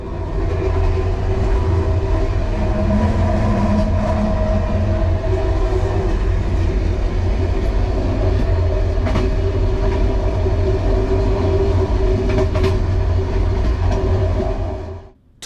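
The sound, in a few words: Hungarian MÁV-START train running on rails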